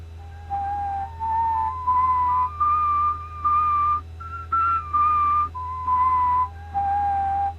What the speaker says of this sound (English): He sure does snore loud.